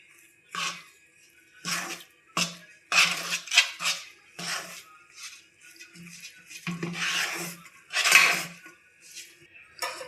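Milk powder is stirred into the mixture for mango laddu with a spoon scraping and clinking against a metal pan in irregular bursts, close and fairly faint, with no speech.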